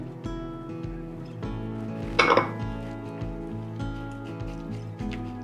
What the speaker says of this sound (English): I'm gonna give that a quick mix